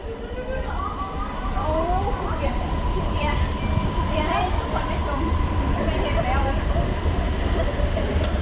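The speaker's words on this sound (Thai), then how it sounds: "ตอนนี้เราก็จะเห็นรถไฟฟ้าใต้ดินแล้วนะครับ" Subway train rumbling through a tunnel, low steady roar with squealing, whining rail tones rising and falling over the noise.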